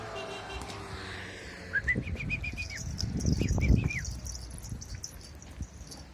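A pigeon named Keşbir, missing some wing feathers, takes off with a flurry of flapping wings that swells and fades over a few seconds. High chirps sound nearby, and a voice is faintly present.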